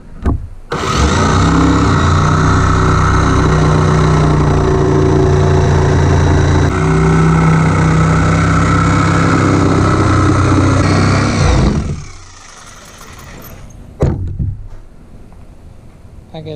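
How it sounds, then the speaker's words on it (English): A jigsaw cutting a rectangle from plywood subfloor in a school bus runs loud and steady for about eleven seconds with small shifts in pitch as it cuts, then stops; a few faint knocks follow. "I'm going to use the jigsaw to cut it out"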